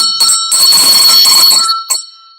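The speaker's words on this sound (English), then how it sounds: "Oh, I forgot my bell." A bell rings out loud and clear with a sustained metallic tone, struck in a few bursts that fade at the end of a short live roll call session.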